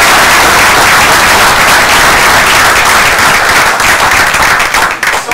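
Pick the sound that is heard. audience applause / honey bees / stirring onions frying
audience applause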